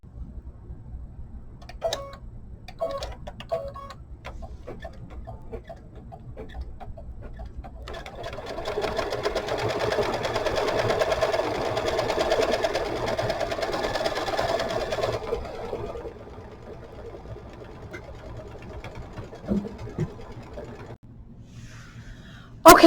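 An embroidery machine stitches quilting on a hooped quilt, its rapid rhythmic needle clatter building into a steady close whirr that runs for several seconds before stopping, with soft handling noises around it.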